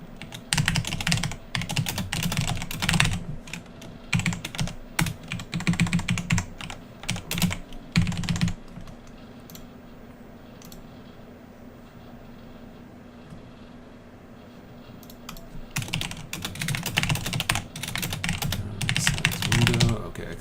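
Steady typing on a computer keyboard at a gamedev desk, dense rapid key clatter that pauses briefly midway before resuming, close and fairly loud over a low hum.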